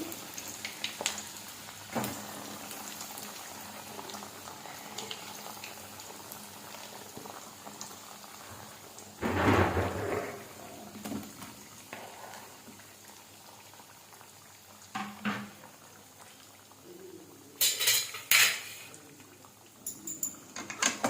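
Pieces of bitter gourd fry in hot oil in a kadai over a medium flame, giving a continuous bubbling sizzle with louder bursts and occasional stirring scrapes.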